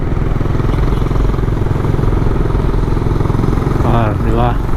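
A Raider motorcycle engine runs loud and steady, a continuous close rumble with rapid mechanical clatter throughout, and a brief burst of higher sound near the end.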